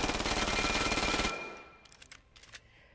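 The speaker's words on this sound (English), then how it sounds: "let's try out the Uzi, or in game it's called the PM9" Uzi submachine gun, called the PM9, fired in the VR shooter Vail VR: a loud, rapid continuous burst for over a second, then it stops and a few faint clicks and handling noises follow.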